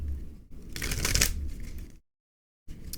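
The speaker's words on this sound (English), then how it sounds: "All right, that is my last shuffle." Tarot cards being shuffled by hand, a close papery riffling burst that swells and fades over a couple of seconds, then a short silence before the rustling resumes.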